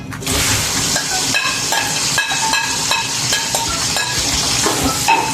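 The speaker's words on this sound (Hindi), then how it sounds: "प्याज को अच्छी तरह हम ब्राउन कर लेंगे" Sliced onions fry in more than half a kilo of hot oil for a restaurant-style beef korma, a steady loud sizzle with intermittent stirring clinks of a utensil against the pot, close up and unbroken throughout.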